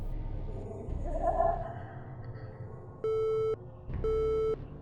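After a phone call is hung up, two long steady busy-signal beeps sound loud and close, each lasting about half a second with a short gap, following a brief muffled rustle.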